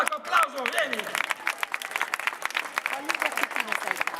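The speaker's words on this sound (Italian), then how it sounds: "un bel applauso" Applause from a street-show audience in Novi Ligure, Italy, uneven clapping under a performer's loud animated voice that keeps talking over it.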